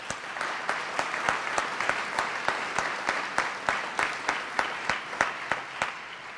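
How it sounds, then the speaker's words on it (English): An audience at a governor's investment announcement in West Louisville applauds steadily, a soft wash of clapping punctuated by a few prominent, evenly spaced claps from someone close by, lasting about six seconds. "Let's give them a round of applause."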